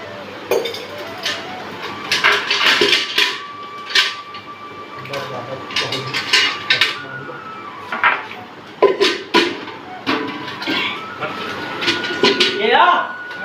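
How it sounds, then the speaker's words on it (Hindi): Metal dishes and utensils being scrubbed and washed, with repeated clinks and clatters of pots and cutlery close by, scattered irregularly through the scene while people talk over it. "बर्तन मांजन लागत है"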